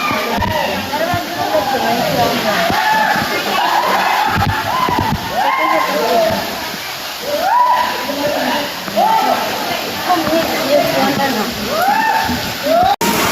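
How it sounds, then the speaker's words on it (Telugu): Rushing water from the Bimunipadam Waterfalls makes a constant wash that runs through the clip, with people talking over it and the splashing partly masked by voices. "Water falls."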